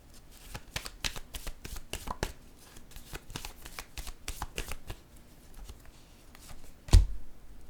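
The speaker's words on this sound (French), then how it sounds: "je vais piger une carte pour l'ensemble ici" Tarot cards being shuffled with rapid riffling flicks for several seconds, then a single card is drawn with a sharp slap near the end, close and quiet, no speech.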